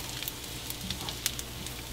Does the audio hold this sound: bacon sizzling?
yes